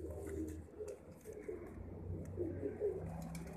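Soft, low pigeon cooing repeats in short rolling phrases over a steady low background hum, close by with no talking.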